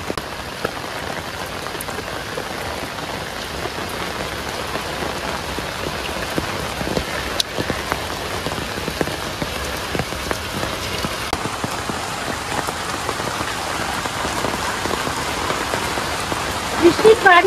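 Rain falling on a surface in a village, a dense, steady patter of drops with occasional louder splashes near the end, and faint voices now and then.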